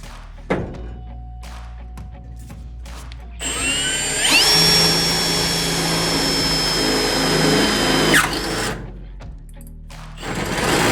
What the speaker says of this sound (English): That's a loud drill. You have it turned up to pimp? I have it on the hammer setting.